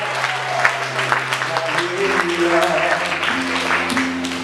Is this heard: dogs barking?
no